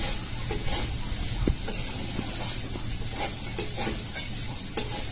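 Flattened rice (chira) being fried and stirred over vegetables in a pan for chirer polao, a dense steady sizzle with frequent scraping stirs and light clinks.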